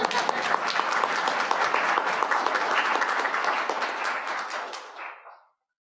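A church congregation applauds in a steady burst of dense clapping with a few sharper individual claps, holding for several seconds before cutting off abruptly.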